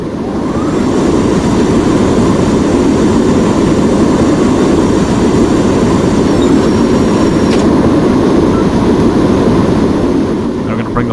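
An airliner in a flight game takes off at full power, its jet engines roaring loudly and steadily throughout the run, with a brief tonal chime partway through.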